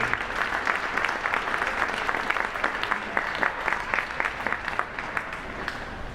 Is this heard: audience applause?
yes